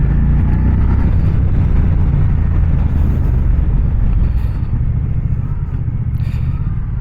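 A Moto Guzzi Stelvio motorcycle engine accelerating in sport mode, a loud, steady low rumble that holds throughout with a slight easing toward the end, with no voices.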